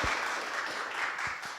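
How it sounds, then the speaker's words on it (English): Audience applause at a university evening event, a steady wash of many hands clapping together, moderately loud and continuous with no speech over it. "One more round of applause."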